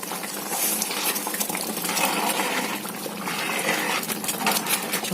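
A utensil stirs curry with curry leaves in a pan, a steady, close scraping and bubbling texture with faint clinks that continues without pause.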